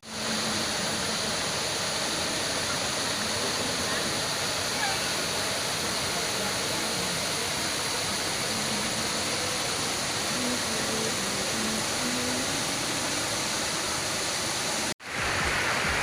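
Wanree waterfall in Prachinburi, Thailand, gives a steady, dense rushing roar of falling water that runs unbroken except for a brief cut near the end.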